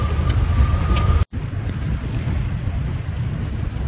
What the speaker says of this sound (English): Oh, some spray breaking waves.